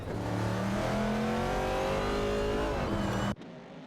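Dodge Challenger and Ford Mustang Boss race cars in a driving video game, their engines a loud, steady revving drone with rising pitch that cuts off abruptly near the end.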